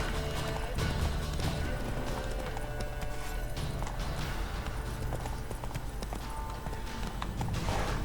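Roach, Geralt's horse in The Witcher 3, gallops steadily with rapid rhythmic hoofbeats, close and loud over continuous game ambience, with no speech.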